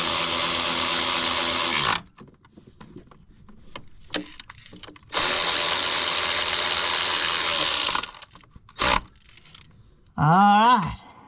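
A power tool tightens bolts on a 1988 Ford Super Duty rollback truck in loud bursts of buzzing rattle separated by quieter pauses, ending with a short rising and falling whir.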